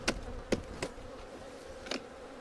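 Honey bees buzzing from an old colony just broken open after years in one place, a low steady hum punctuated by several sharp, near clicks or knocks from handling the hive.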